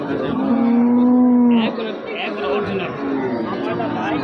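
A large Holstein Friesian cow at a cattle market gives one long, loud, near moo, followed by the murmur of crowd chatter and voices around it.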